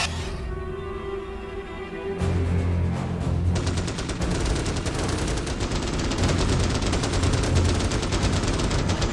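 Gunfire in the Starship Troopers: Terran Command strategy game starts after a quieter stretch, then swells into rapid, continuous automatic bursts layered with booms, loud and sustained to the end.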